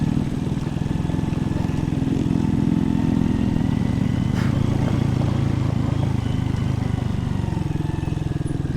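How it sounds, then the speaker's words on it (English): Small dirt bikes ride along a remote four-wheel-drive track, their engines droning steadily and fairly loud through the whole stretch with no break. "it's pretty amusing that we get these stupid little bikes out this far"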